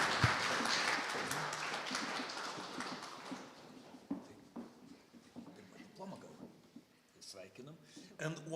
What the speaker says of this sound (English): Let's welcome with applause Rūta Ubarevičienė